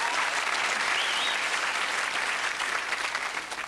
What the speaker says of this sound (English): That applause means only one thing. A lot of people clapping in unison.